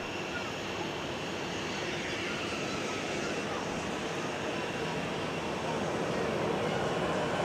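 An airplane at Zurich Airport roars steadily and loudly nearby, a broad continuous jet rush that swells slightly toward the end, with a voice faintly audible beneath the engine noise.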